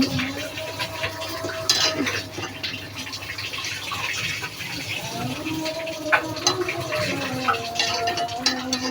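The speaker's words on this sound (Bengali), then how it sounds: "দেখেন আমি গলদা চিংড়ি দিয়ে দেশি কাঁকড়ালা দিয়ে রান্না করতেছি। কাঁকড়াগুলো দিয়ে দিচ্ছি।" Native crabs and giant freshwater prawns cook in a pan, with stirring scrapes, utensil clinks and a low bubbling sizzle while a person talks over the cooking.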